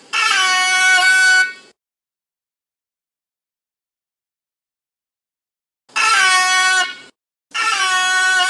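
A harsh electronic buzzer blares three times alone, a long blast of about a second and a half, then after a silent gap two shorter blasts close together, loud and near.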